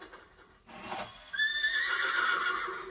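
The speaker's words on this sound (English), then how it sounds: "That was a present for my daughter, and it's a horse neighing, as you can tell." A cuckoo clock plays a recorded horse neigh, a clear whinny that rises and holds for over a second against quiet room background.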